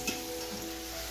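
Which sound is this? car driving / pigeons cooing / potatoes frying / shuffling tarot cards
potatoes frying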